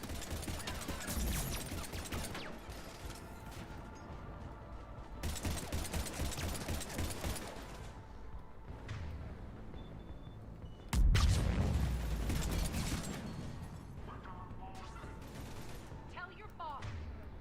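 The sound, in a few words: grenades exploding in video game Mass Effect 3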